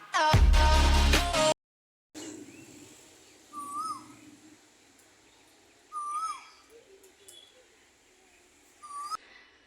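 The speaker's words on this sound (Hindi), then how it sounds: "यहाँ पर मुझे ये कोयल की आवाज़ बहुत प्यारी लगी" Asian koel calls heard outdoors, a few separate rising whistled phrases at moderate distance, spaced several seconds apart over faint ambient background, following a brief loud burst of other sound at the start.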